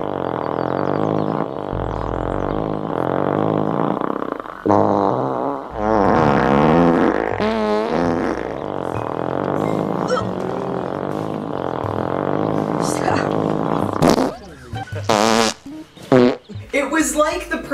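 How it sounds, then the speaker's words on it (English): Loud, raspy farting sounds from a comedy film scene come in quick succession, mixed with voices talking throughout and busy background sound. "the classic scene where he farts 3 times in very quick succession"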